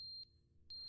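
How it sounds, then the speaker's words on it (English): A fire alarm in the video game The Stanley Parable gives a steady high electronic beep, cutting out briefly and then resuming, clear and alone. "That's the fire alarm."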